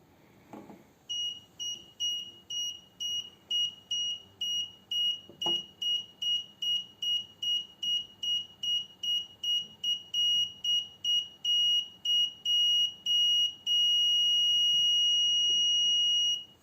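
An Arduino-built parking sensor under test sounds a clear electronic beep that starts slow and steady, quickens into rapid pulses, then merges into one continuous tone, loud and close with no voices.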